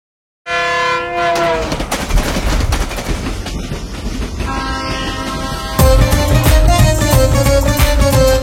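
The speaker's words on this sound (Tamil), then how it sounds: "தட தட தட தட ட்ரெயின் போகுது" A loud train sound effect plays in a children's gospel song: steady clattering rail rumble with horn-like tones, set against music that swells after a brief silent start.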